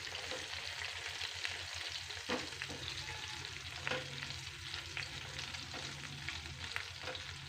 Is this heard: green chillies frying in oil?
yes